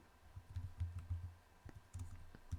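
Soft clicking keystrokes on a computer keyboard come in short uneven runs with brief pauses, faint and close in a quiet room while a command is typed in, no voices.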